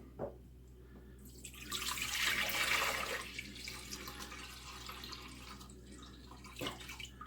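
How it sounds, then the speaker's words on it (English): Water poured into a cooking pot for steaming Chinese dumplings, a soft splashing pour that swells for about two seconds, then trails off into quieter trickles with a final small splash. "So let's pop some water in there."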